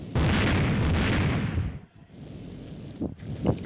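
A loud bomb blast in the Mini Militia mobile shooter game, a dense broad roar filling the first two seconds before fading, followed by quieter rumble and a couple of sharper pops.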